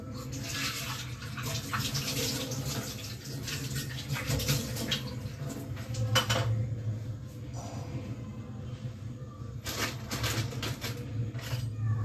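Water splashes and trickles steadily into a cooking dish of vada kari being mixed, with light clinks and scrapes from stirring over a continuous running-water wash.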